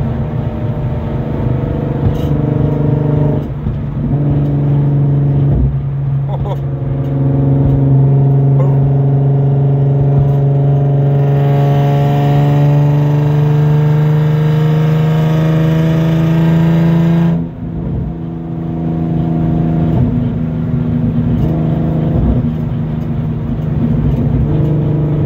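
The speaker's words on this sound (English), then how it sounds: "I don't know if y'all can hear that exhaust." A loud Infiniti G35 engine drones and revs close by, its exhaust note rising and holding steady before dropping back to idle.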